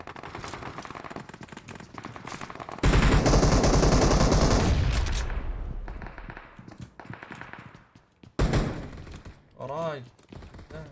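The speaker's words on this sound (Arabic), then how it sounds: "طلقات" Bursts of gunfire from the PUBG Mobile battle royale game crack loudly, with a long dense volley in the middle and scattered shots before and after, while a player talks excitedly over the action.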